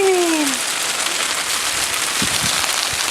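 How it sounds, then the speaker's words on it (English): Steady rain patters densely on a surface, a loud continuous hiss with a brief high tone at the start and a few low knocks near the end. "it's raining, it's raining."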